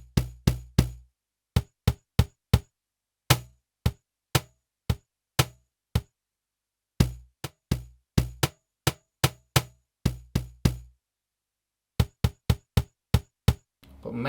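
A Roland SPD-SX Pro drum pad plays a deep bass sound, struck by hand in short thumping hits, single and in quick clusters with gaps of silence between, close and fairly soft, with no voices.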